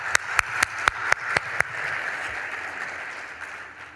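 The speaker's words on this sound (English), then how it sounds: "We need to cheer her again." Crowd applause and cheering for a woman named Fatma at an event, opening with several sharp, evenly spaced claps before settling into a steady, sustained wash of clapping from a hall audience.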